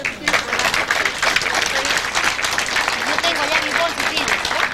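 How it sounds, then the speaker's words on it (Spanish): A festival audience at a patron saint celebration applauds steadily and loudly, dense clapping filling the whole stretch with crowd noise. "Un aplauso para ellos."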